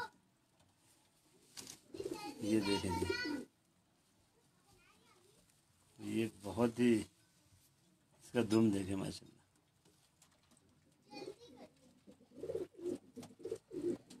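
Pigeons on a rooftop coo in several rhythmic, throaty bursts close by, alternating with someone speaking between and over the calls.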